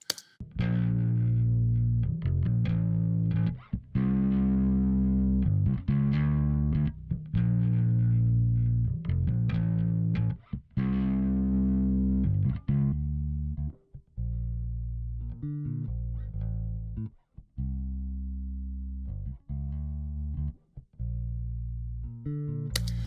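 A gritty, medium-distorted bass guitar with parallel compression plays a heavy riff of sustained notes and short stabs, thick and compressed, with brief gaps between phrases.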